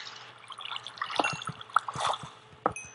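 Water in the Minecraft video game trickles and drips, with soft scattered splashes and bubbly plinks that come in irregular bursts, fairly faint, with no talking.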